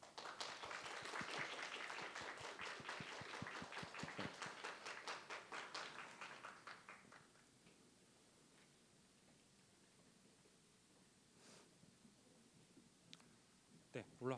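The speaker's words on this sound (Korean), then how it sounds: "박수와 함께 새 가족을 모시도록 하겠습니다" Applause at a church youth service as new members are welcomed, a burst of close hand clapping that fades out midway, leaving quiet room tone with a few faint knocks.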